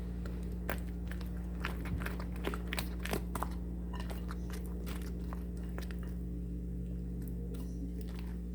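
Repeated crisp bites and crunching of thin, crunchy polvilho (cassava starch) biscuits, close and fairly loud, irregular snaps over several seconds against a steady low hum.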